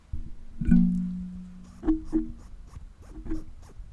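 Close, sharp ratcheting clicks and a faint squeaky whine from a Seiko mechanical wristwatch being wound by hand, in a few short bursts with pauses between.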